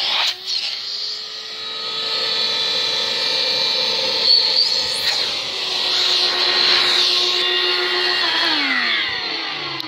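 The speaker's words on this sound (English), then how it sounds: "You've heard the pitch pick up from the shop vac." A shop vac runs continuously with a steady, loud whine and no talk over it; its pitch shifts and climbs near the end, with a drop in tone around eight seconds.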